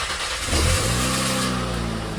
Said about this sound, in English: Now when it locks up, you start the car.